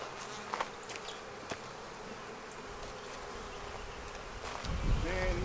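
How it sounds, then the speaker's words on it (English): Agitated honeybees buzz at an open Flow Hive during an inspection, a faint steady swarm drone with individual bees zipping close past the microphone and a louder buzz swelling near the end. "And these bees are just as mad as ever."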